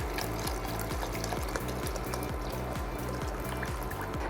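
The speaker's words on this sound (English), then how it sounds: "So I'm just gonna pour these 2 quarts in." Two quarts of beef broth pour steadily into a soup pot for tortilla soup, a continuous splashing, gurgling stream heard close and alone with no talk.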